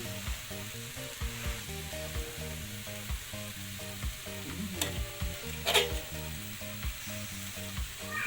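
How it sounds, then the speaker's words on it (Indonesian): Tempeh sizzles and crackles in hot oil in a pan, with repeated scraping stirs at a steady rhythm and a couple of brief sharp clatters. "Ini goreng tempe."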